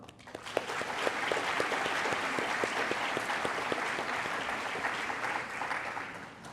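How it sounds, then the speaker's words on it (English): An awards ceremony audience applauds student peers, clapping swelling in quickly to a full, dense ovation with distinct individual claps standing out nearby, then tapering slightly toward the end. "Ladies and gentlemen, please join me in applauding my fellow peers one more time."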